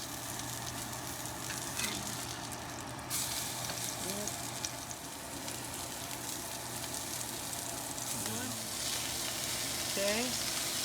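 Keto chicken parmesan meatballs frying in a hot pan with a little olive oil, producing a continuous sizzle with occasional spatula clinks and shifts, faint background voice sounds.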